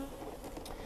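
Honey bees buzz around an open hive box during a colony split, a soft, steady, low insect drone that stays faint and close throughout, with no voices.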